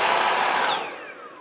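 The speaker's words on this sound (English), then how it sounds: "After I hit it up with the paintbrush, give it a good vacuum." A small handheld vacuum cleaner cleaning a Lego city whines loudly and close up, its pitch sliding as the motor winds down over about a second and a half.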